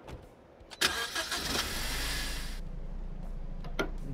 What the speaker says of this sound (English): A loud engine. Never forget.